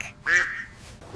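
A single loud, close duck quack, one short nasal call standing alone.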